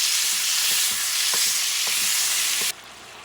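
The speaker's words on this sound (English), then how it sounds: "you have to make sure this ground meat is cooked." Ground meat frying over medium heat for a Spanish pasta sangria meat sauce, a loud continuous sizzle broken by several spatula taps and scrapes, cut off abruptly near the end.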